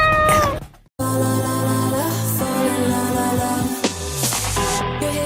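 A cat meows in drawn-out, tonal calls over steady music, loud and close, with a sudden drop to near silence about a second in.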